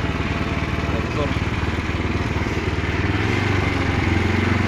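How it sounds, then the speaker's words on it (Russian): A homemade loader's engine runs steadily while driving slowly in first gear, a loud, continuous, throbbing rumble with no breaks, close to the machine. "Первая, самая медленная скорость. Едем потихоньку."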